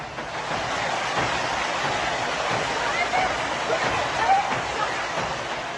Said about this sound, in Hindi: ये तस्वीर मेट्रो स्टेशन के भीतर की है जहां सीढ़ियों के ऊपर से तूफानी रफ्तार से पानी बह रहा है